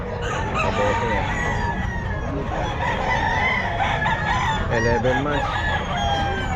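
An 11-month-old Pumpkin Sweater gamecock at the Bocaue pet market crows loudly and repeatedly, other fowl clucking around it, while someone speaks briefly over the din.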